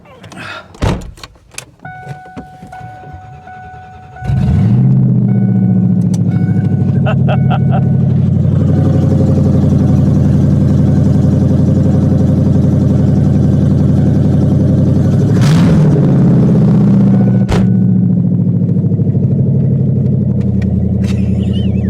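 A 1997 Mustang GT V8 with an SLP Loudmouth exhaust and BBK X-pipe fires up after a few clatters, then holds a loud, deep, throbbing idle with one brief rev partway through, close by.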